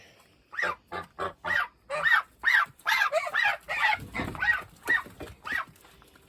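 Geese being chased around their house honk repeatedly in a rapid series of close, loud calls, one after another with short gaps.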